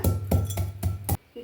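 Five sharp pounding thuds in a steady rhythm as black peppercorns and cumin seeds are crushed with a pestle in a mortar, then a brief pause.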